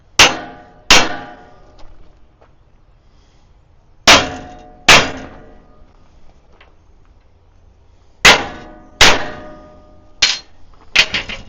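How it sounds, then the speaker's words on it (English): A hammer strikes a steel center punch on armor plating for a logging truck, sharp ringing metallic blows in pairs and clusters with short pauses between, loud and close with decaying clang. "I'm going to take my center punch and hammer, and I'm going to punch it."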